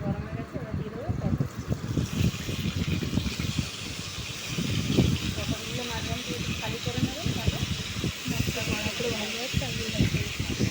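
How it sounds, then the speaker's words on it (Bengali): Pointed gourd (potol) slices fry in hot mustard oil with a steady, close sizzling hiss that runs under continuous talking. "এতে এবার সর্ষের তেলটা দিয়ে দেবো পটলটা ভাজার জন্য।"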